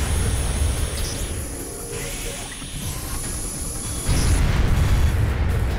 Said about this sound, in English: Fortunately, chain explosions are a thing.